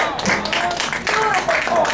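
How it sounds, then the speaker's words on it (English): Clapping at a varsity game comes as quick, uneven hand claps mixed with crowd noise and nearby voices talking. "why are you clapping?"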